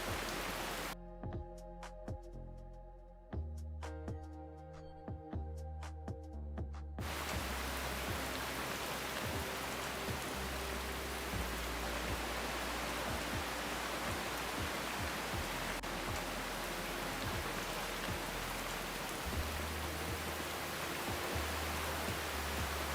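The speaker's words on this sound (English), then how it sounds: "I could also turn up the rain sound a little bit." Steady rain ambience in an indie horror roguelike video game, a dense hiss of falling rain that swells to fill the scene after some quieter game sounds and low tones, continuous and loud.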